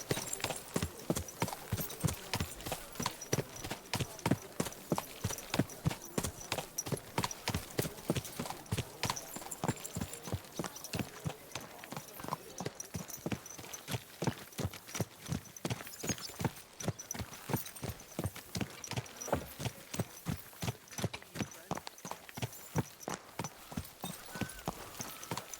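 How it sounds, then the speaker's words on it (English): Steady, rhythmic clip-clop of a horse's hooves walking along at an even pace in Kingdom Come: Deliverance II, the regular hoofbeats continuing without pause for the whole stretch, close and clear with no talking. "This horse must have cost us pretty good."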